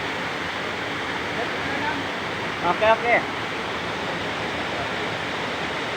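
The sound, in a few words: Gintubdan waterfall in La Carlota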